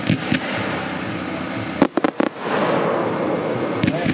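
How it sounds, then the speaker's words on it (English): A 100-shot fan wave roller firework with blue pistol effects gives a dense, continuous crackling barrage of rapid bursts. The sound holds steady with a brief cluster of sharper separate bangs partway through, then resumes at full strength. "Next up is the 100-shot fan wave roller with blue pistol."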